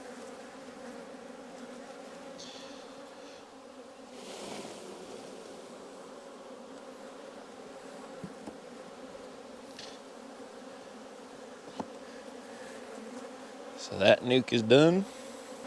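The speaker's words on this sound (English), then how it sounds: "I'm going to shake 1 or 2 frames of bees in there" Honey bees buzzing in a steady, humming drone while frames of bees are shaken into a nuc, with brief knocks and a short burst of louder activity near the end and a voice speaking briefly.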